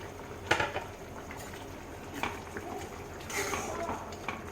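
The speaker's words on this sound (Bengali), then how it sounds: "ঝোলটা ফুটে উঠলে আমি এবারে ভেজে রাখা মোড়ালা মাছগুলো দিয়ে দেবো" Mustard-based fish curry gravy for small mourala fish simmering in a pan, a steady low bubbling hiss with occasional utensil knocks, close and quiet.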